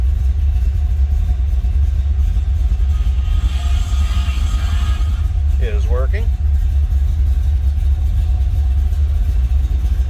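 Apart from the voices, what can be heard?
1972 Chevrolet Chevelle 350 engine idling with cam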